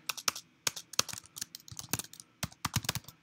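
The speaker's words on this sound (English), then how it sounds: "Type in your email right there" Someone types an email address on a computer keyboard, giving irregular bursts of close, soft key clicks and taps at a quiet level with no speech.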